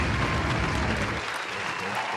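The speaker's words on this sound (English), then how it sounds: "Everybody round of applause." A small group on a podcast set gives a round of applause. The clapping is brief, close and dense for about two seconds.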